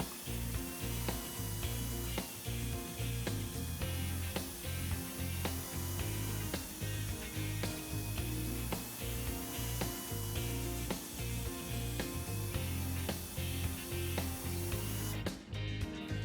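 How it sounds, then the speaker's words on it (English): A carbide cutter on a drill bores out a nail hole in a truck tire, giving a steady, loud grinding whir with rhythmic repeated pulses as the tool is worked in and out, with no voices. "Proper drilling with the appropriate size carbide cutter ensures complete damage removal while preventing future injury growth."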